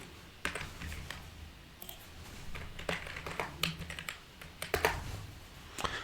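Rapid, uneven clicking of keys on a computer keyboard as code is typed, in irregular bursts with short pauses, close and fairly quiet with no talking.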